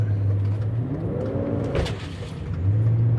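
A car engine revs loudly and close by, with a deep steady rumble that climbs in a rising sweep at mid-point, then settles back to a heavy idle.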